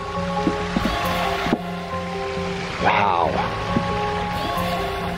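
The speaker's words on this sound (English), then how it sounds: "So this is a 70 foot pondless waterfall?" Water rushes steadily down a 70-foot pondless backyard waterfall, a continuous even hiss close by, with a person's voice briefly speaking over it.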